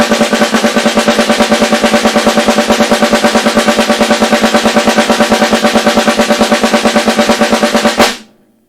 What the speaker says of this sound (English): Here's the sound of the single stroke roll at a moderate tempo